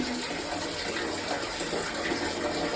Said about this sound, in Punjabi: ਮੈਂ ਪਾਣੀ ਖੁੱਲਾ ਛੱਡਿਆ ਸੀ